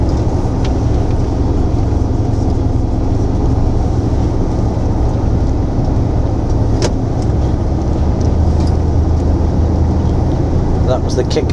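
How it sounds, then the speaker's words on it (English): A heavy truck engine drops a gear on kick down while climbing a hill on a UK road, a loud steady low roar heard from inside the cab for the whole stretch. "That was the kick down, if you wondered what that noise was."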